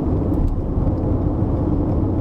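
A 2020 Toyota RAV4 cruises at highway speed while overtaking cars, giving a steady low road and engine rumble with wind noise and no talking.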